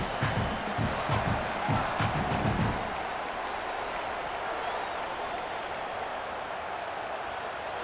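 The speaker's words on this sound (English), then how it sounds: "this crowd is not going to fade away, and they're rising up now." A stadium crowd in the EA Sports College Football video game sends up a broad, steady roar of cheering and applause, with rhythmic surges early on that settle into a sustained wash of noise.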